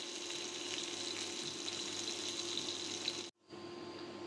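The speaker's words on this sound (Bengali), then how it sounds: "বাগার ভাজা অলমোস্ট ডান" Garlic frying golden brown in oil as a tempering for dal, a steady close sizzle running unbroken until a brief pause near the end, then resuming.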